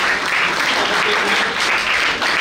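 Students at a school assembly clapping together in a dense, steady wash of applause, close and loud throughout.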